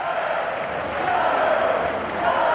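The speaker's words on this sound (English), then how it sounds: "and they're cheering him already" Crowd at a 1990 Commonwealth Games swimming race cheering a swimmer, a sustained roar of many voices, steady and loud throughout.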